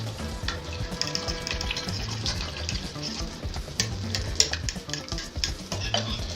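Butter melts and foams in a pan ahead of scrambling free-range eggs, a continuous soft sizzle with scattered crackles and light scraping, steady and close throughout.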